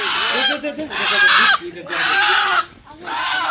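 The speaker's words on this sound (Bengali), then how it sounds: "হাঁস জবাই করতে বলে বেশি কষ্ট বুঝছো তানিশা" Loud, harsh squawking from a duck in repeated bursts, close up, as it is being slaughtered, with a person's voice mixed in.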